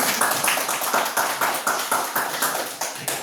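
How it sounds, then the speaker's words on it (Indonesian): Primary school class clapping together in a coding lesson, a rhythmic series of synchronized claps in steady beats, loud and close. "Oke, tepuk tangan"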